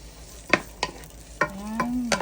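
Vegetables for pinakbet with red onion stirred in a little hot oil: a few sharp scraping strokes of a utensil over a soft sizzle, with a low steady tone near the end.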